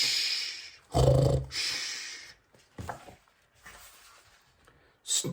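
A voice imitates snoring with a few breathy, rasping inhales and exhales, loud and close, then quieter rustles.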